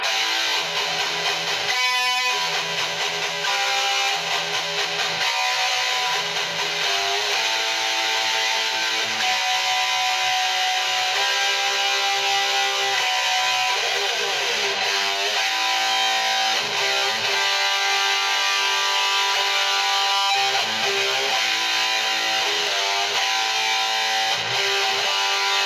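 A distorted electric guitar plays a riff with sustained, gritty chords and some bending notes, loud and continuous throughout.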